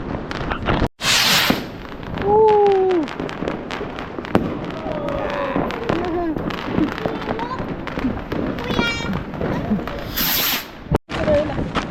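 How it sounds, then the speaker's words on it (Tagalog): New Year firecrackers and fireworks go off outdoors in repeated sharp pops and crackles, with a few loud bangs and whistling streaks. Excited voices talk and cheer throughout. "Grabe, paputok ko."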